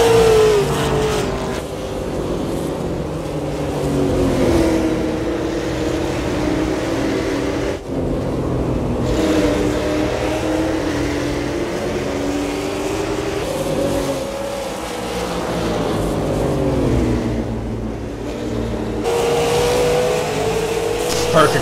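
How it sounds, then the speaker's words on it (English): Super late model stock cars race around Five Flags Speedway, engines roaring continuously as the pack circles, with swelling and fading passes, while a race commentator talks over the noise. "he's getting ready to lap a very fast car of Derek Holzhausen"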